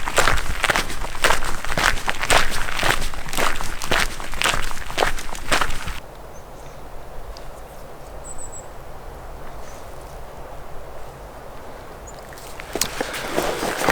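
Footsteps of a hunter hiking through a summer field during a Washington fall bear season outing, steady crunching strides loud and close for about six seconds, then fading to quiet outdoor ambience with faint insects before steps resume briefly.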